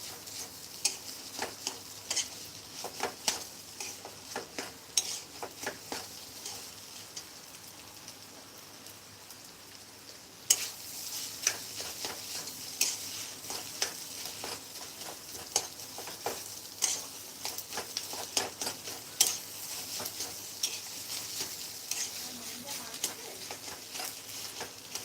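Fish roe fritter mixture (macher dimer jhuri) frying in oil over a low flame, a steady crackling sizzle with scattered pops and stirring scrapes, growing brighter and busier partway through.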